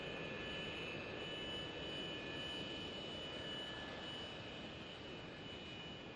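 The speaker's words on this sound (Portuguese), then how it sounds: "Este avião entrou em operação há mais de 30 anos e continua sendo a maior aeronave de transporte militar do mundo" Antonov AN-124 military transport aircraft, the world's largest, roars with its jet engines in a steady, loud, continuous broadband drone with a faint high whine, unbroken for the whole stretch and without voices.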